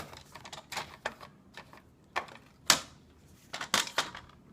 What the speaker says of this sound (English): This is my Fisker cutting tool that I'm using, by the way.